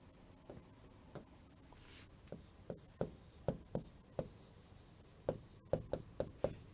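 Chalk or marker strokes on a board during a Hindi lesson, a series of quiet, sharp taps and scrapes arriving irregularly, some in quick clusters, close and faint with no talk.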